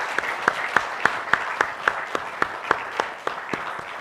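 An audience at an annual conference applauds, with a few sharp, regularly spaced claps standing out above a softer, steady bed of crowd clapping.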